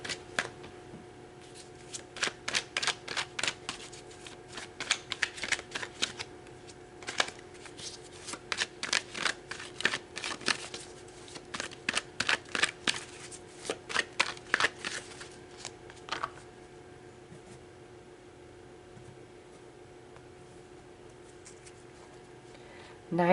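Tarot cards are shuffled by hand in repeated crisp riffling bursts, close and fairly quiet, for about sixteen seconds before quiet follows.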